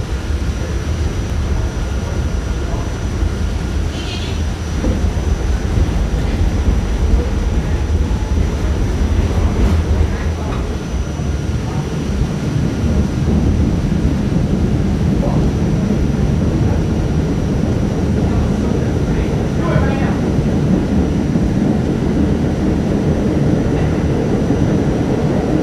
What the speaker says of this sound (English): An empty train here.